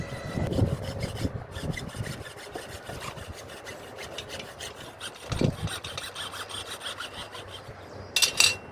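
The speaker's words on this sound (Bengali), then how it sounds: "এখন পাইপটা কাটা হবে যে উনিশ ইঞ্চি সাড়ে উনিশ ইঞ্চি পাইপটা লাগে তো ওইটা এখন আমরা কেটে নেব" A pipe being hand-sawn to length for water tank fittings, with steady back-and-forth rasping strokes close up and a few louder knocks and scrapes as the cut progresses.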